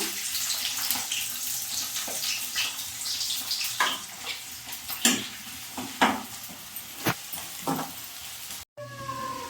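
Chopped onions and green chillies fry in a little hot oil in a pan, a continuous close sizzle with irregular scraping stirs and a brief cut near the end.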